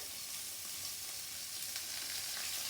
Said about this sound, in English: You're going to hear that sizzle, which means our oil is hot.